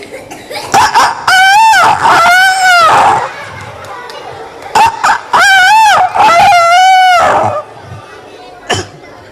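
Children at a community poetry gathering imitate a rooster crowing, producing two rounds of loud, drawn-out rising and falling crows in chorus, separated by a brief lull with scattered voices.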